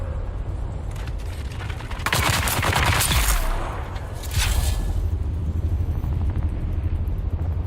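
Gunfire in the video game Dune Awakening, rattling bursts that swell loud for a few seconds and then return briefly, set against a mechanical background hum, with no talking.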